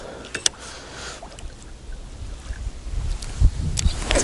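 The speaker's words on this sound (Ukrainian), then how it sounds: "Починає роздуватися вітер. Все як і по прогнозу." Gusting wind buffets the microphone with low rumbling bursts that grow stronger toward the end, over faint water and outdoor ambience, on the Dnipro riverbank in Kyiv.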